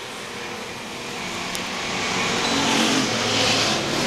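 Slingshot race cars roar around the Star Speedway oval, a broad engine drone swelling louder as the pack approaches, with no talk over it.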